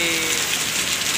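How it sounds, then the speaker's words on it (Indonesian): Heavy rain pours down in Garut, Indonesia, beside a railway where a train passes through the storm, a dense, loud and continuous hiss with no voices. "Hujan gede."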